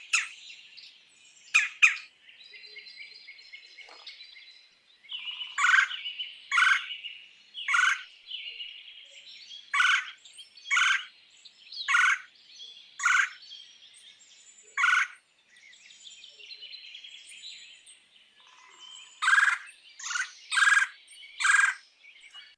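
Repeated harsh, squawky calls from a bird with an up-and-down undulating flight, heard outdoors in sharp bursts: a pair near the start, a steady series through the middle, then a final cluster, with no talking.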